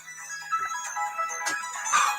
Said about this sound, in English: So you'll have to put up with the ringing noise.